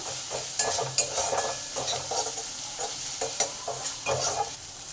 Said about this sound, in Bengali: পেঁয়াজগুলো আমার ভালোভাবে ভাজা হয়ে এসেছে